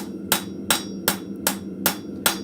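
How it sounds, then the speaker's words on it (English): A ball peen hammer lightly taps a metal handle in a blacksmith shop, six crisp, evenly spaced strikes at a steady rhythm, close and clear over a low background hum. "I'm just going to go down the handle, back and forth, not hitting all that hard with the ball peen."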